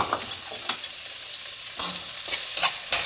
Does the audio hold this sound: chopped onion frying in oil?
yes